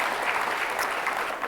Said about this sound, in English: So if I could get a round of applause for our panelists